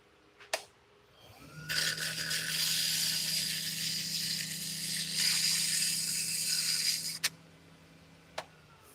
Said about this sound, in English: Now we are going to sand this thing.